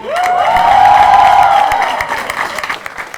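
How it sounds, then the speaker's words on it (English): Studio comedy audience bursts into loud cheering and applause for a chief intern, a sustained whoop riding over dense clapping that tapers off near the end. "A huge round of applause to Chief Intern Aman Jotwani."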